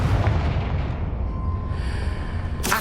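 A Confringo fire spell explodes in Hogwarts Legacy on PS5, a loud, continuous booming blast with a deep low rumble that fills the moment and rolls on, ending in a sharp bright burst.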